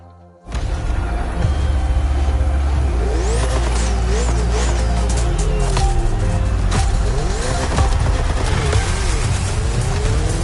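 Ferrari and Red Bull race cars roar on a circuit in The Crew Motorfest racing game, with loud, continuous engine revving, rising and falling pitch sweeps and hints of tire squeal, starting abruptly after a brief quiet moment.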